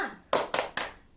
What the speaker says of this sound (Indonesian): Kita tepuk semangat yuk.